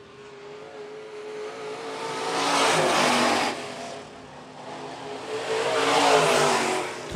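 Modified race cars run at Phillips County Raceway. Engines roar past in two swelling waves of revving, growing loud and then fading, with a distant steady drone between passes.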